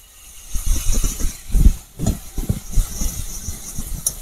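Ginger-garlic paste frying in a pan over onion paste for a yogurt katla fish curry: a steady broadband hiss with soft, irregular low thumps of stirring throughout, fairly close and moderately loud.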